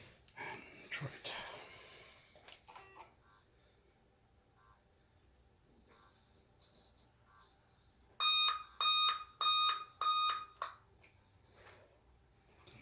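A Dell Inspiron 14 3421 laptop emits a series of four clear, evenly spaced electronic beeps during a screen replacement, loud and close, following earlier faint talk and handling noise.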